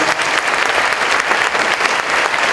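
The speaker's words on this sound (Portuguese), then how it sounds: "Salva de palmas, né?" An audience at the "Calma no Caos" talk with Ken O'Donnell and Roberto Shinyashiki gives a dense, even round of applause, many hands clapping together close to the microphone.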